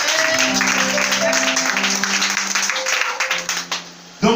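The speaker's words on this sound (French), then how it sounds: "Est-ce que tu peux acclamer le Seigneur ce soir?" A church congregation applauds and acclaims the Lord in a dense wash of clapping and cheering voices, loud at first and then thinning into scattered claps before a final burst.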